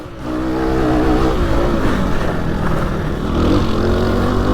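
A Fantic Motor Enduro 250 (2019) motorcycle engine pulls hard up a climb, a loud continuous drone that rises and wavers in pitch with the throttle, close to the listener.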